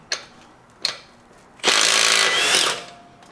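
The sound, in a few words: impact gun removing lug nuts from Honda Ridgeline wheel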